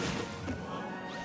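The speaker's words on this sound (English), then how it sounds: "Just consistent forward smashes coming out of Beatrix." Forward smash attacks landing in Super Smash Bros. Ultimate, dense crashing and whacking impacts packed into a short, loud burst under busy game noise.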